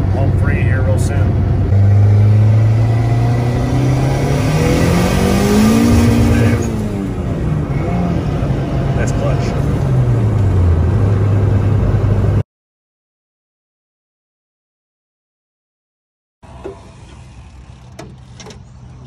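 Engine of a turbocharged Honda Integra accelerating on the road, a loud steady drone rising and falling in pitch for about twelve seconds before cutting out, then returning faintly at the end.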